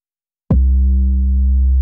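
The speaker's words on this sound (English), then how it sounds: "Let's switch on my distortion." An 808 bass tone with tube distortion hits suddenly and holds steady, deep and sustained, loud and gritty with a distorted buzzing edge.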